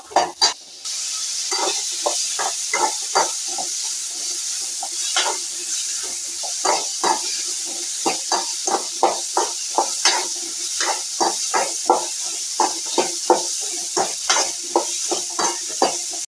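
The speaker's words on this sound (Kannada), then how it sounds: "ಸ್ವಲ್ಪ ಬ್ರೌನ್ ಕಲರ್ ಬರೋವರೆಗೂ ಫ್ರೈ ಮಾಡ್ಕೋಬೇಕು." Food frying in oil in a pan until browned, a steady sizzle and hiss throughout with repeated sharp stirring scrapes and clinks of a utensil against the pan, close and fairly loud, no talking.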